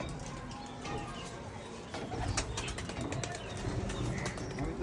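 Pigeons on a building rooftop coo softly and flap their wings amid steady outdoor background noise, with a few wingbeat bursts near the end.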